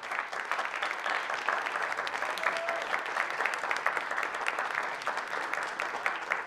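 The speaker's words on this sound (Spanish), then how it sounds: "vamos a premiarlas con un fuerte aplauso" A studio audience gives sustained applause for contest finalists on a Spanish-language television show, a dense and even wash of clapping throughout with no talk over it.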